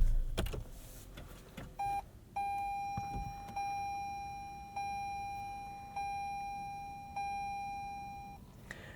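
Chimes from a 2023 Toyota RAV4 Hybrid Woodland Edition with a 2.5-liter hybrid powertrain as it is switched on: a short click, then a series of steady electronic tones restarting at even intervals, clear and close inside the cabin.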